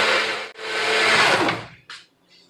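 A new blender, used for making sweet potato spaghetti, is set onto its base, with a steady broadband whirring rush that cuts out briefly, then a short scraping clunk and faint rattle as it settles.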